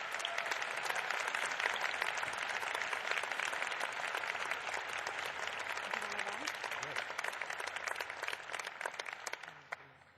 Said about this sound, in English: Let's give all of the High-Tech Council a round of applause